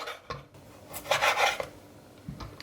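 A knife slices through sucuk sausage on a cutting board for a breakfast recipe, giving a few short, close scraping and rasping cuts with light knocks.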